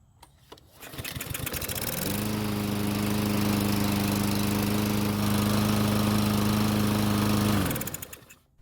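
A Murray lawn mower engine, run without its air filter, catches after a brief clatter and settles into a loud, steady, close idle drone lasting several seconds before cutting off.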